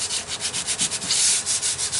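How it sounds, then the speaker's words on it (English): Fine 180-grit sandpaper rubbing over a primed wooden bird feeder, a steady close-up rasp in short rhythmic back-and-forth strokes, about eight passes with no talking. "and then you sand it lightly"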